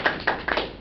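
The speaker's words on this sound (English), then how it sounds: "she deserves to give her applause" Brief classroom applause for a classmate, a handful of sharp, close hand claps in quick succession.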